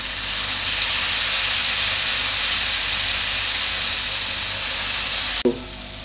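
Two tablespoons of soy sauce hit vegetables frying for pasta, and a loud, steady sizzling hiss runs without a break until a sharp clatter near the end leaves the pan quieter.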